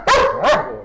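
A police dog gives two quick, loud, close barks on command, a short, light double bark.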